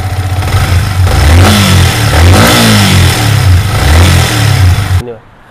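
A Yamaha MT 15 motorcycle engine holds at high revs with a loud, steady buzzing drone and small surges, then cuts off abruptly near the end, as someone talks over it.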